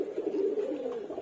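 Pigeons moulting and set out in the sun coo steadily in a low, continuous throaty murmur, close and moderately loud with no talking.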